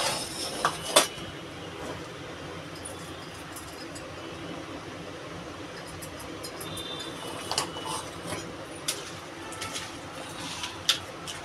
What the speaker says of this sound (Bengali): আর এদিকে যে আমটাও কেটে নিচ্ছি।